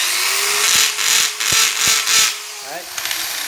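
A corded power drill switched into hammer mode, running in short bursts with sharp percussive clicks between spells of whirring, fairly close and loud, while someone talks over it.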